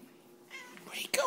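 A cat lets out a single short meow at the very end, indoors while hunting a moth near the curtains, after a moment of quiet rustling.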